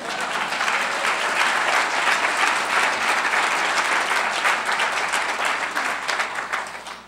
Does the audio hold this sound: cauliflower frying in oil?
no